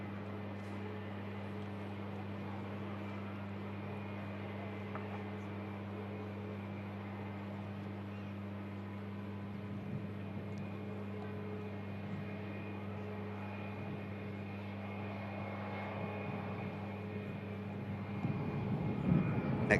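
An airliner at Manchester Airport sends a steady, distant engine drone and low hum across the field, growing a little louder near the end.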